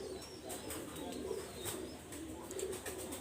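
Young Bondleje pigeons coo softly and repeatedly, low rolling calls close by against quiet background hiss, with no talking.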